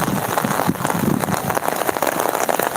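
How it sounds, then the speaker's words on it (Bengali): Steady rain pours during a thunderstorm in Sylhet, a dense, continuous patter close by with no talking. "আকাশে এখনও বৃষ্টি আছে"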